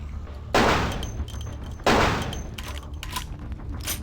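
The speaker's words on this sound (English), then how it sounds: "there are, like, scripted explosions behind you that cut off the path" Scripted explosions in the video game Vampire: Bloodlines, two loud booming blasts a little over a second apart, each trailing into a rumbling, crackling decay.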